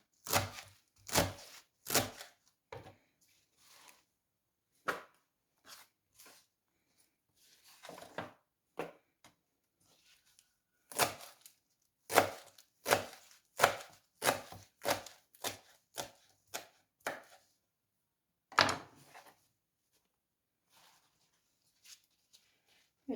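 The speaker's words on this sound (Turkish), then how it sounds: "Önce doğrayacağım." A knife chops peppers on a cutting board in irregular bursts of sharp taps, close and crisp, with quiet pauses between runs.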